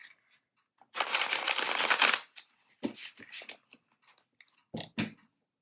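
A deck of playing cards being shuffled close by: one long riffle burst followed by shorter crisp flutters and taps as the cards are squared up, with no talking.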